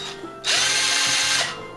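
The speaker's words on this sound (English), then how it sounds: "So I'm going to be doing this to both of them, just using my drill," A handheld power drill whirs steadily for about a second as it degasses wine in a glass carboy, a close, loud, even mechanical whine that starts abruptly and then winds down.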